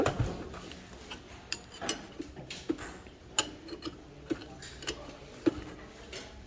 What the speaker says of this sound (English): we have only to unscrew the temperature probe. 17 millimeter key, wrench key. I have to unscrew it.